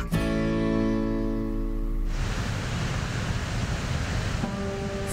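The Pennamaquan River rushing near a dam, a broad steady roar of flowing water that stays loud and continuous; an abrupt change early on suggests an edit from another sound into the river noise.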